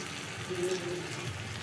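Water poured into a pan of frying spices while cooking a Bengali pabda fish curry, a brief gushing splash over a steady background hiss.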